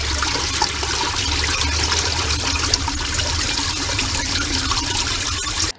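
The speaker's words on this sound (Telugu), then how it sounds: "ఇదిగోండి, ఫ్రీగా వెళ్ళిపోతుంది. వాటర్ కానీ మలం, చెత్త, చెదారం ఈజీగా వెళ్ళిపోతుంది." Water rushes steadily through a drainage rat gate, a continuous close, loud flow with no pauses.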